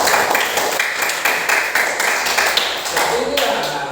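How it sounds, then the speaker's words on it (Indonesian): A group claps for everyone during a training session, a dense run of rapid close hand claps that holds steady for the whole stretch, with a voice speaking over it. "Tepuk tangan untuk semuanya."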